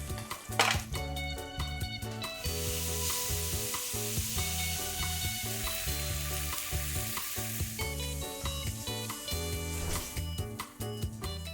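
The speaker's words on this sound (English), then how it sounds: "By the time these steaks brown on both sides, they will be fully cooked as well." Steaks for tacos de bistec browning in a hot pan, a steady loud sizzle and crackle of frying meat with occasional clinks of a utensil against the pan, no voices.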